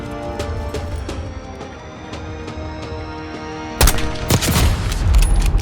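Gunfire in the Call of Duty Black Ops 6 campaign near an airport overpass: scattered distant shots over a droning background, then a burst of loud, close rapid fire and booms toward the end.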